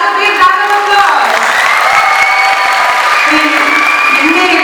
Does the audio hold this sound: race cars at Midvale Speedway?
no